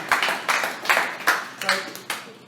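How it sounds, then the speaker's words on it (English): A small round of clapping at a talk on cold calling, about seven distinct hand claps in a loose, even rhythm, close and fairly loud. "Hi, round of applause."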